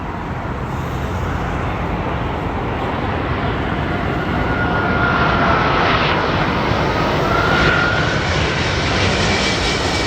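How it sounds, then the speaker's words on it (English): British Airways Airbus A380 at Heathrow Airport, its four engines producing a loud, continuous broadband roar that swells slightly as the aircraft passes, with no voices. "the Airbus A380."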